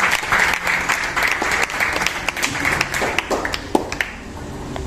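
Church congregation applauding during a French-language service, dense close clapping sustained throughout and thinning slightly toward the end.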